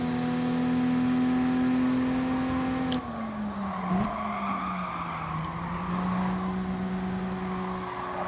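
Race cars in a racing game with British cars only, one engine droning steadily then shifting pitch as it slows and revs, with a short tire squeal partway through, fairly close and with no talk over it.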